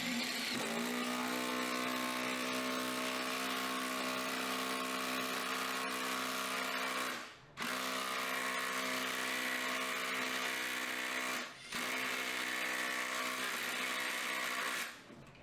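A Ryobi battery-powered cordless impact driver runs in long, steady, loud bursts of whirring, hammering drive, briefly stopping twice before resuming, with no talk over it.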